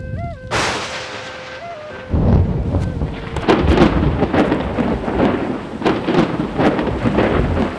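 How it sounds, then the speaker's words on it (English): A violent spring thunderstorm on open plains: a brief tonal note fades into a deep rolling thunder crash, followed by steady heavy rain with repeated sharp cracks and rumbles, loud and close throughout. "Spring brought violent thunderstorms that could spawn tornadoes."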